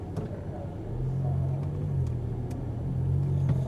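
Audi R8 V10 engine under light throttle, a low steady rumble that swells slightly as the car creeps forward on a driving course.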